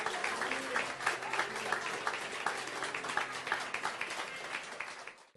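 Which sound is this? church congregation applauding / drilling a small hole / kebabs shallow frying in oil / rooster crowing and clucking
church congregation applauding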